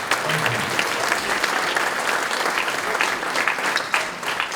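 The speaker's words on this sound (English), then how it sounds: "So, round of applause for that." Audience applause at a junior fire academy graduation ceremony: a steady, dense wash of many hands clapping close by, holding evenly for several seconds before easing slightly at the end.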